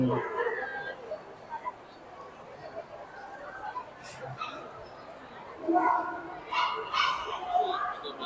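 Small dogs yip and bark intermittently amid the busy chatter of a crowd in a supermarket pet market, with people talking nearby throughout.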